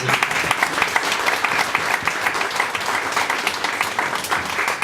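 A dinner audience applauds the cooks Nono and his helpers at a May Day celebration, a steady, dense wash of clapping from many hands that holds evenly throughout.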